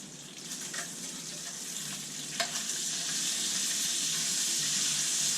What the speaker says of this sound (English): Alright, the bacon is cooking good. Ooh, splattery.